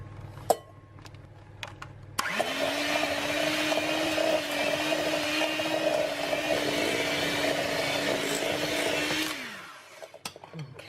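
Unsalted butter and sugar beaten until creamy with an electric mixer: a steady, close motor whine running for about seven seconds at constant pitch, starting and stopping abruptly, with a few knocks before and after.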